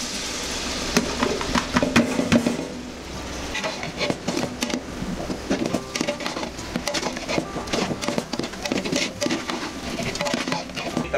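Soya chunks and vegetables sautéing with tomato and curd in a pan, a steady close sizzle broken by frequent stirring scrapes and clatters of the spoon against the pan.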